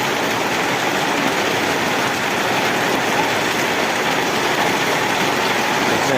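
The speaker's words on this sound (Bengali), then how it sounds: "নোয়াখালীতে প্রচুর বৃষ্টি দেখেন সব কিছু ডুবে গেছে" Heavy monsoon rain pouring down in Noakhali amid flooded streets, a dense, unbroken roar of falling water that stays loud and even throughout, with no voices.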